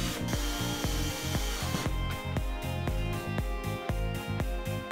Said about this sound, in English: attach a window sash lock to the top of the wood window frame using 2 3/4 inch screws